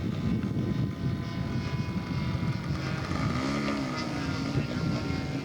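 Scale model Seahawk aircraft taxiing at a scale aircraft show, its small engine giving a steady, continuous drone under dense outdoor noise, with a brief rising and falling engine tone near the middle.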